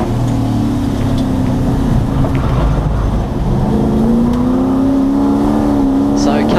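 Race cars at the Wakefield 300 roaring down the back straight, a loud sustained engine drone with shifting pitch as the cars pass, under continuous commentary.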